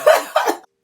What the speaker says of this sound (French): C'est peut-être pour ça que ça me fait tousser.